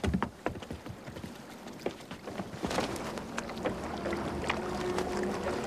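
Boat moving on water in a Hungarian biblical audio drama set among fishermen, with continuous water wash and splashing, knocks and creaks from the hull close by, and no talk.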